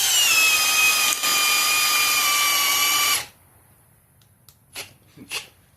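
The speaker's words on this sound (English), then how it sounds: "Both drills are set in speed 1 also" Hypertough and Bauer hammer drills boring into concrete at speed 1, a loud, steady whining drone for about three seconds that cuts off abruptly, followed by a few faint knocks.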